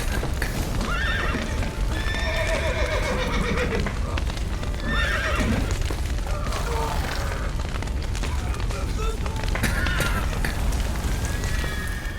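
Several horses neigh and whinny in The Witcher video game amid thudding hooves and booming, crashing commotion, with loud overlapping calls throughout a dense, chaotic scene.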